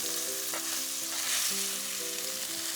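Pork chops fry in a hot cast iron pan, a dense steady sizzle close by with occasional scraping clicks and faint ringing tones, no speech.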